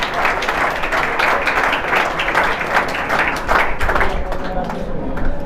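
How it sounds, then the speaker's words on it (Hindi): A seminar crowd in Narwana, Haryana claps loudly to welcome a guest, producing a dense, sustained roar of hands close by that holds steady throughout. "एक बार जोरदार तालियों के साथ स्वागत करें।"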